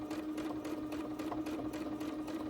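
A sewing machine runs steadily during free motion quilting on a quilt border, its needle hammering in a fast, even rhythm with a constant motor hum, close and alone without any talking.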